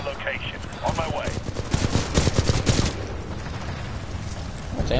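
Rapid bursts of automatic gunfire in the Titanfall 2 shooter, loud and close, under shouting voices and game effects.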